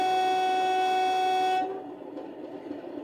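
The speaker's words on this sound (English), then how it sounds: "So F3 is high tone air horn." Accurascale Class 37 model locomotive sounding its high-tone air horn, a single loud, steady sustained blast that cuts off after about a second and a half, leaving quiet background hiss.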